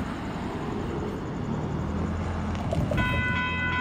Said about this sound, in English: This train's about to pull up.